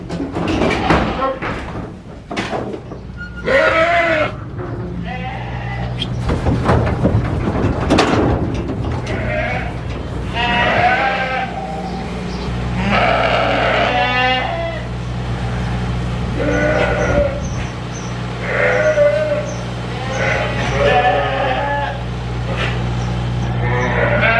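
Yearling ewes penned together after unloading for shearing bleat repeatedly and close by, overlapping calls rising and falling over a steady low background rumble.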